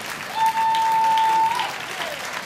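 Applause from a live concert audience celebrating the 15th anniversary of a Polish band at the Metropolia Jest Okey festival in 2014. A steady, fairly loud wash of clapping lasts about two seconds, alongside a sustained tone, then tails off.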